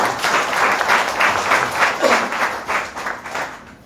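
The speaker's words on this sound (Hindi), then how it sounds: "तो एक बार तालियां होने सर के लिए" Audience applause during a marketing plan presentation, a continuous loud patter of many hands clapping with a rhythmic swell, close and filling the room, with a brief voice heard partway through.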